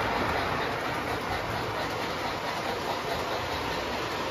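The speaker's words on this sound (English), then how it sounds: "chassis special, pulling the Pittsburgh train." A model train with a chassis special pulling the Pittsburgh train runs along its track, giving a steady, even rolling rumble with a faint rhythmic clatter and no talk.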